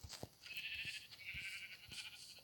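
Sheep bleating in the Minecraft video game, with a few short bleats that are quiet and slightly distant over a soft, steady background.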